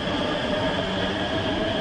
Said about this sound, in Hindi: भाई, स्टार्टिंग का जो साउंड है ना वो सेम है मेट्रो जैसा,